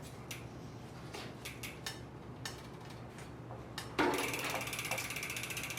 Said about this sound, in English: Now we need to turn this bolt here counterclockwise while holding the crank arm.